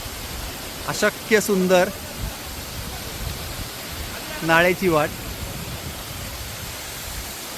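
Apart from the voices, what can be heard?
waterfall beside a mountain trail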